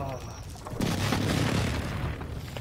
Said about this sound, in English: Oh, I've been precision airstriked.